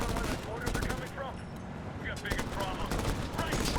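Rapid bursts of gunfire ring out in the video game Medal of Honor, sharp repeated shots close together, with a player talking over the action.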